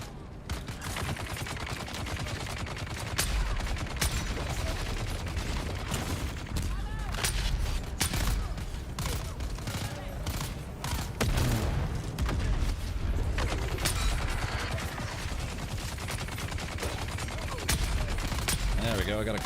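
Gunfire in Dune: Awakening, a desert survival game: rapid bursts of shots and booms keep going throughout, close and loud, under occasional speech and game sounds.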